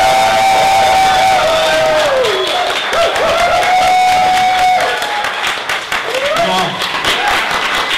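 A pub crowd at a synthetic biology science night cheers and applauds loudly and steadily, with whoops rising over continuous clapping while an amplified host's voice carries over the noise.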